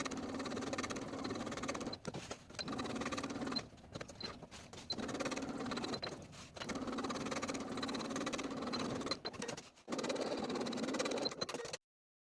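A sewing machine runs in long steady bursts while top stitching the back pockets of pull-on pants, humming and whirring continuously with brief pauses between seams.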